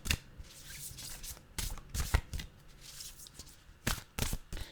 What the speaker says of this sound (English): Oh, they want a really good shuffle for you.